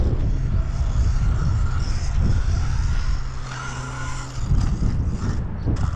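HSP Vortex mini 1/16 scale RC car at full throttle, with a continuous close motor whine and rushing tyre noise over a rough surface, fluctuating slightly as it drives.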